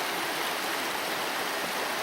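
A waterfall at the back of a riverside scene near Crieff, heard as a loud, steady rushing roar that fills the whole clip without breaks. No voices can be heard over it.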